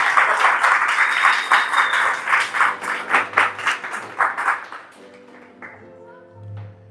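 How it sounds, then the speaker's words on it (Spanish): A church congregation breaks into dense, sustained applause that thins out and fades after about five seconds, leaving faint scattered sounds and murmurs. "En ese aplauso a Dios."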